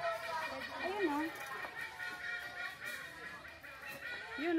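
A goose-like bird honks several times on a farm, rising and falling calls heard against faint background noise, not very close.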